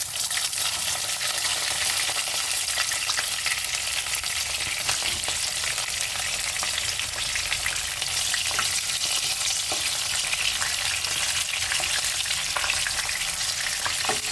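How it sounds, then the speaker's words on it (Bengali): Eggplant pieces frying in a pan of mixed vegetables with salt and turmeric, a loud, continuous hiss and sizzle with occasional stirring scrapes, close and steady throughout. "এরপর আমি এক এক করে বেগুনগুলো দিয়ে দেবো।"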